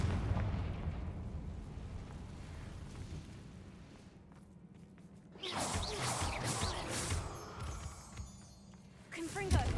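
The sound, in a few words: Confringo fire spell blast, from video game Hogwarts Legacy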